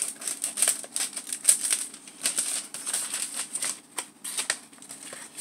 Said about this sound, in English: I'm going to do the same thing again with this one. Again, cut the sides.